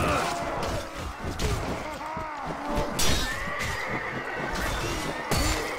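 Horses neighing and whinnying in a Mount and Blade: Warband battle, several loud calls overlapping amid hoofbeats and clashing, with someone talking over them.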